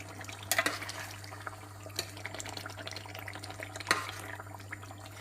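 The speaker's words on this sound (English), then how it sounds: "It's bubbling away nicely." Chicken karahi curry bubbling and simmering in a pan, a steady soft wet crackle with occasional louder pops, close and fairly quiet with a constant low hum beneath.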